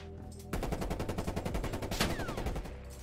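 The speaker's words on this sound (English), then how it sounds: "I'm being shot from 17 different directions." Rapid automatic gunfire in Call of Duty Cold War Search and Destroy, a steady burst of close, loud shots rattling in quick rhythm for a few seconds.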